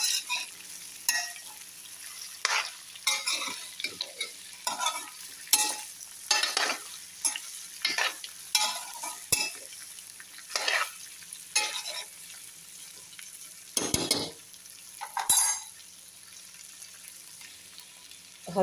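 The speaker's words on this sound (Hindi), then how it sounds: "भिंडी फ्राई कर रही हूँ" Okra fries in a pan with softened potatoes for aloo bhindi, stirred with repeated scraping strokes over a quiet background sizzle. The spatula bursts come irregularly, close by and moderately loud, and no one speaks.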